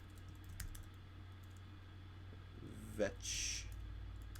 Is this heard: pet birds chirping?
no